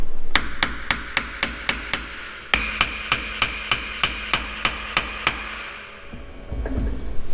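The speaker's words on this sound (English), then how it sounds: "I'll use a dead blow hammer to just tap it all the way in." A dead blow hammer taps a pinion into a Ford 9 inch axle housing: two quick runs of sharp, evenly spaced metallic knocks, about sixteen in all, close and loud, ending in a duller thud.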